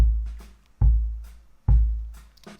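Three dull drum hits with deep boomy lows and little top-end snap, evenly spaced and fading between strikes, no talking.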